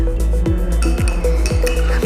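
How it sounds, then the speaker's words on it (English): A spoon stirs salt into water in a glass for a density experiment, a rapid series of bright clinks against the glass at a steady rhythm, close and distinct, about four strokes per second, no talk. "Take 2 tablespoons of salt and mix in it water"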